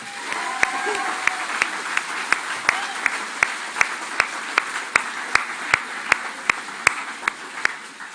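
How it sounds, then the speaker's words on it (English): An audience at a staff awards night gives a round of applause, with continuous crowd clapping and a sharp, regular pair of close hand claps standing out in a steady beat over the wash. "we need to give him a round of applause to keep him going"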